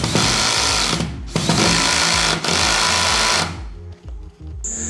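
A power screwdriver drives screws while fixing Durafloor baseboard, loud sustained whirring bursts of about a second each separated by brief pauses, close and alone before a quieter tail.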